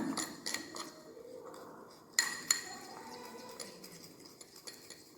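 A spoon stirs glycerin paste in a bowl, giving light scraping and clinking taps with a couple of sharper knocks midway; close and fairly quiet, no voices.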